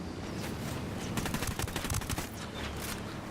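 Bursts of automatic machine gun fire in the video game Ghost Recon Wildlands, rapid cracking rounds clustered in the middle with a quieter rumble of combat before and after, fairly faint overall.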